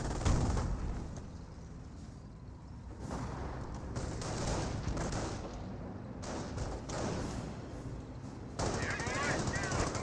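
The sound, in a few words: machine gun fire in Company of Heroes video game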